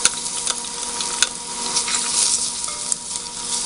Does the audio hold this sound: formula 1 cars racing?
no